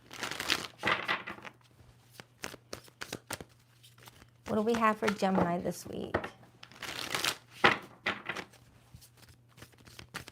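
Deck of tarot cards shuffled in repeated crisp riffling bursts, someone talking between and over the shuffles, close and clear.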